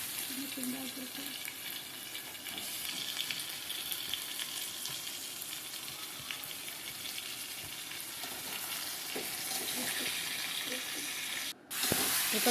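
Chicken pieces sautéing in a pan for gravy, a steady close hiss and sizzle of frying with occasional stirring scrapes, continuous and moderately loud, cut by a brief pause near the end.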